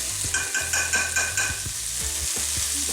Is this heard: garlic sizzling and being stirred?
yes